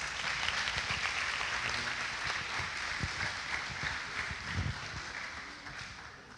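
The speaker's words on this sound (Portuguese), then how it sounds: "Você pode aplaudir a Deus na vida dessas mães?" A church congregation applauds at a service honouring mothers, a steady wash of clapping with a few louder claps and foot movements nearby, easing off toward the end.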